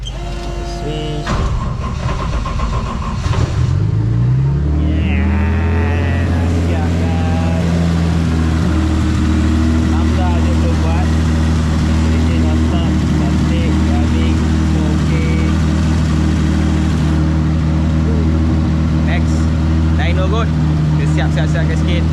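A car engine cranks and catches, then settles into a steady, loud idle hum that continues close by, with someone talking over it.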